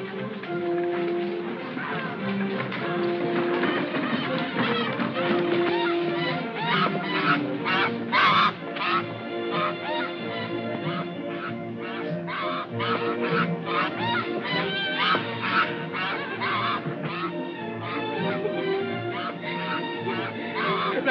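Geese honk and quack in a busy flock for about twenty seconds, with many overlapping loud calls repeating in irregular bursts and no talking.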